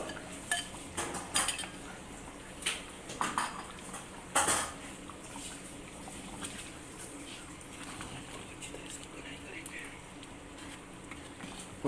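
Metal spoon scraping and clinking against a handi while chicken and yogurt are stirred and fried, with intermittent sharp clanks over a low sizzle and someone speaking at times.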